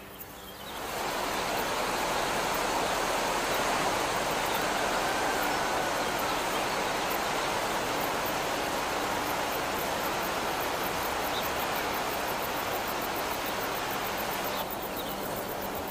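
A small stream flowing between two lakes at Prespa in the Balkans gives a steady, even rush of water, close and continuous with no voices.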